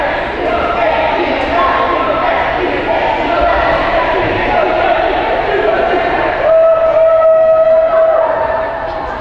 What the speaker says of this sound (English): That must be the locomotive cheer.